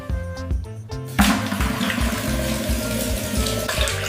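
Water runs from a household tap into a bucket, a steady splashing gush that starts abruptly and continues loudly, close to the listener, with a rising filling tone over a faint background melody.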